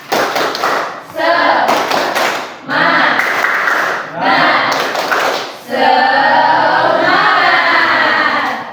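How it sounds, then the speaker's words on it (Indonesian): A fifth-grade class performs a rhythmic Indonesian clapping chant in a classroom, loud bursts of patterned claps and thumps mixed with children's chanting voices, with short pauses between phrases. "Tepuk semangat."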